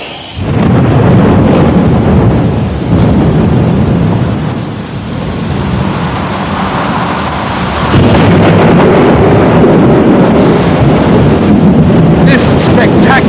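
Heavy rain pours steadily in a square in Parma, Italy, with deep rumbling thunder and gusty wind buffeting the microphone, loud and close throughout.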